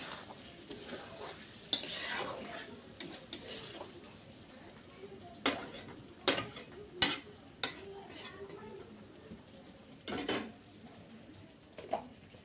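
Fried potatoes being stirred into a mustard masala in a pan for a prawn dish: a faint sizzle under scattered scraping and clinking of a spoon against the pan, with irregular bursts of stirring.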